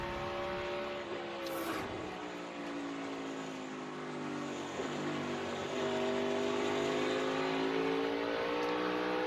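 NASCAR Toyota Camry race cars at Richmond roar steadily around the track, a dense, continuous engine drone with shifting pitch as the cars run in a pack, heard from a moderate distance.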